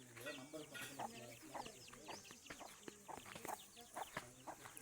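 A hen clucks repeatedly in quick, uneven bursts as she leads her chicks, amid a busy outdoor farmyard din by hillside paddy fields, with other bird calls scattered around.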